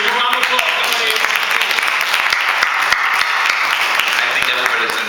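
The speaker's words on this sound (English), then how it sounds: "Give me a round of applause" Sustained applause from a town hall meeting audience greeting attorney Ed Jerson, a steady dense wash of clapping with scattered sharper individual claps, continuous and fairly loud throughout.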